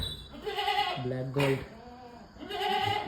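Goats and sheep bleating inside a farm shed, a few close, fairly quiet bleats spaced across the moment, with a person talking in between.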